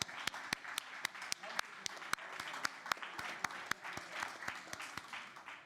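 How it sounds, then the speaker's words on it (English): Modest applause at a community feedback meeting, a small group clapping with sharp, distinct individual claps at a regular rhythm, fairly quiet and slightly distant. "Yeah, so applause for that."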